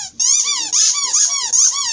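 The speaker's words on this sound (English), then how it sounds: "He loves squeakies." A dog's squeaky plush toy squeaks in a continuous run of high, wavering squeals, loud and close, with brief pauses between squeezes.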